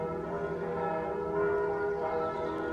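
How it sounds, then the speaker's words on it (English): Church bells ringing out on a Saturday morning, heard from a house front door, a steady sustained peal of overlapping tones with no talk. "The bells you can hear are the bells from the church."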